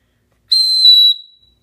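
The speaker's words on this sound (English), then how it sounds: "Here's the whistle that goes on the zipper." A Gerber Bear Grylls survival kit's small zipper whistle gives one short, piercing, shrill blast, very loud and close, lasting just over half a second and cutting off cleanly, with no voices.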